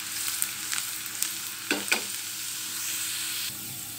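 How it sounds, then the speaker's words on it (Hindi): Chopped garlic fries in hot ghee with a steady close sizzle, broken by a few sharp spatula clinks and scrapes around the middle, with no talking. "घी गर्म हो गया और ये हमने ढेर सारा लहसुन चॉप करके रखा था और ये सारा इसमें डाल देंगे।"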